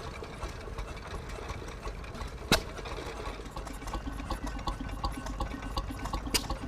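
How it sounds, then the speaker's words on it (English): A 105-year-old Domestic hit-and-miss stationary engine runs at an outdoor vintage working show, its uneven chuffing mixed with crowd and outdoor background noise, with one sharp knock partway through. "Here's a larger hit and miss engine. It's called a Domestic."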